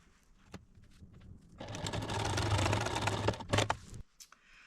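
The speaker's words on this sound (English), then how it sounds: "I'm going to sew a 1/4 inch there" A sewing machine runs a quarter-inch seam along a corner of fabric pieces for a potholder, a steady close whir of rapid stitching for about two and a half seconds, framed by a few handling clicks before and after.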